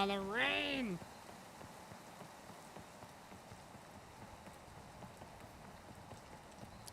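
Rain falling in the video game Peak, a quiet, steady patter of drops that continues after a short burst of synthetic game chime at the start.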